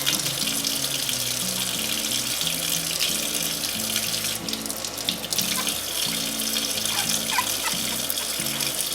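Water runs steadily from a tap as a puppy is rinsed in a bath at home, a continuous close splashing stream under faint, brief background sounds, with no speech.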